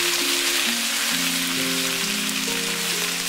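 Cabbage stir-fried in a hot pan with garlic slices and dried chilies, producing a dense, continuous crackling sizzle at close range, with a low droning tone and no speech.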